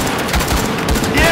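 Rapid automatic gunfire from a shooter match in the video game Firewall Zero Hour, a loud sustained burst of overlapping shots with faint talk mixed in.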